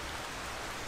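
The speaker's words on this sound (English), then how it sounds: "another rainy day" Soaking rain comes down on an outdoor Iron Age bushcraft site during roof building, a faint, steady wash of drops pattering without pause and no voices.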